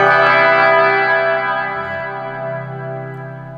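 An electric guitar chord played through heavy reverb and an effects unit rings out and slowly fades, with a rich, shimmering, chorus-like sustain and no other sound.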